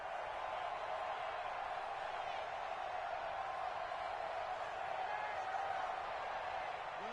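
A stadium crowd in a football video game sets up a steady, faint wash of murmur and cheering that holds evenly throughout, with no distinct shouts standing out.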